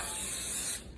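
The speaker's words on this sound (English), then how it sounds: "we're just going to spray the pan" Cooking spray hisses from an aerosol can onto a 9x13 baking pan in one close, steady burst that cuts off just before the end.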